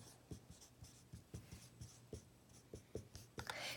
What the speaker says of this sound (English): so I'm gonna go ahead and erase this